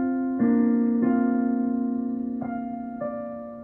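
Piano playing a tune with both hands, a held low note under a few soft melody notes struck one at a time at an even, gentle pace, clear and close with no talking.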